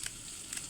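Chili pieces frying in hot oil for Kathiyawadi village-style okra kadhi, a faint, steady sizzle that lasts under a second.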